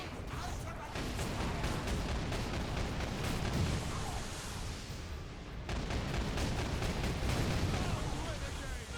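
A charge detonates in the Warhammer 40,000: Space Marine video game, producing a dense, continuous roar of blasts and rumbling that is broken by one brief dip before it surges again.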